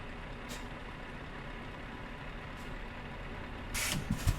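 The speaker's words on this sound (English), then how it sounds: "Okay, that popped. So our parking brake was already off." A truck's parking brake releasing air in a driving simulator: a low idling engine rumble runs throughout, with faint clicks, then a brief, sharp burst of hissing air near the end.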